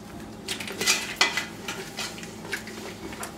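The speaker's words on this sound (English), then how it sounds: "Now it's time to stir it." Mac and cheese being stirred in a pot on a cooking show, a few soft scraping and clinking strokes of a utensil against the pot, close and moderately quiet with a faint sizzle underneath.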